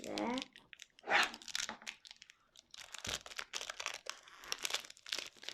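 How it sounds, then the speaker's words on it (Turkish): The plastic bag from a Galata Tower model kit box crinkles and rustles in bursts of sharp, close crackling with brief pauses, some crunchy tearing in between, and no talking over it. "Aç bakalım kutusundan poşetini açınca neler çıkacak."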